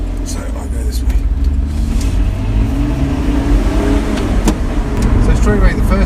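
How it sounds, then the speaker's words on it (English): Road traffic with cars driving past, a continuous loud engine and tyre rumble that swells as vehicles approach, with a person talking over it. "this sadly is a road, just a lovely road, just full of traffic and boring people"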